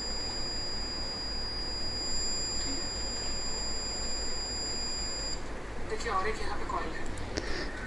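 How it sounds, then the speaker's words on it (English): A multimeter in continuity mode, with its probes on an inductor, gives a steady high-pitched beep that holds for about five seconds and then stops, with a low hum underneath and a few faint clicks afterward. "You can see the beep sound, right?"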